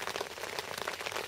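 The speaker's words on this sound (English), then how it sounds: "Rain's still heavy, no more runs." Heavy rain drums steadily on a fishing bivvy beside a lake, a dense continuous patter of drops close overhead with no let-up.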